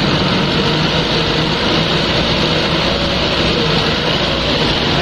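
A car engine runs at raised revs during a radiator flush, giving a steady, loud, broadband drone close by that holds for several seconds with no talk.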